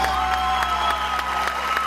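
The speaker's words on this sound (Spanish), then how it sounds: "Pero si ese aplauso queremos que suba, tiene que ser más fuerte" A church audience claps in a loose, moderate round with a few sharper individual claps standing out over a steady tonal hum and faint crowd murmur.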